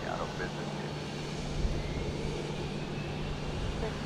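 A Cessna Citation jet waits to taxi at Dallas Love Field, its engines a steady, moderate drone, with radio-style speech over it.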